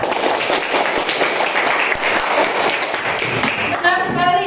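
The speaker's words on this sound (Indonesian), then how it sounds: "Tepuk tangan untuk Rika." Classroom applause from students clapping together, a dense steady patter of hands filling the room, with a few young voices and a teacher's voice mixed in near the end.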